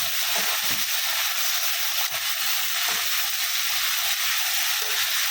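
Water lily stems frying in a pan with chilies, garlic and spices, a loud continuous hiss of sizzling oil with faint stirring clicks, no talk.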